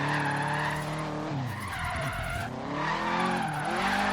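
In the Forza Horizon 3 racing game, a Subaru WRX STI drifts with a loud, sustained tire skid and squeal over the roaring engine, rising and dipping in pitch as the car slides through the turn, with no talk.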